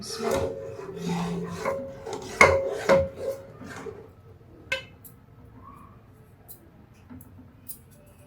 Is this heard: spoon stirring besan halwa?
yes